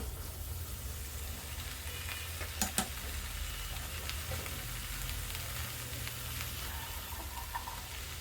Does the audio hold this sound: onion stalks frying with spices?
yes